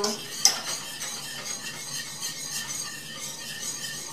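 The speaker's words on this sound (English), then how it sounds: "You just have to keep stirring it." A whisk stirs flour-thickened beef stroganoff sauce in a pan, giving quiet, steady scraping and clinking strokes in a repeating rhythm, close but faint, with no one talking.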